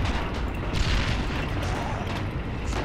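Booming gunfire and explosive shots from a WWII Battle of Stalingrad battle in the strategy game Assault Squad 2, a dense, continuous roar of distant fire with no clear single shots standing out.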